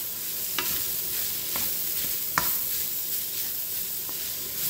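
Ground beef stir-fried in a pan with a steady, close sizzle and a few scattered scrapes and taps of a utensil, no voices.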